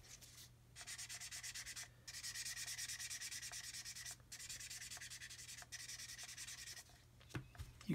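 A painted surface is hand sanded smooth with strokes of paper, a steady scratchy rubbing in bursts separated by brief pauses, close and alone, with a couple of knocks at the end.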